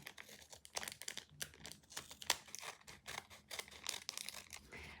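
Soft crinkling and tearing of adhesive tape close by, a series of quick rustles and snips, quiet throughout.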